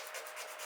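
Sandpaper rubbed by hand across a wooden bowl held still on a woodturning lathe, a soft, steady scratchy hiss with gentle back-and-forth strokes, close and quiet, with no talking.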